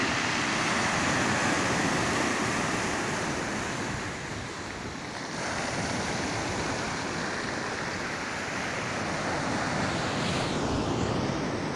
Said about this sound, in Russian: Хорошая волна пошла, да?